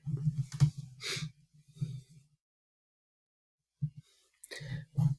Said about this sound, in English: Hold on, let me blow my nose.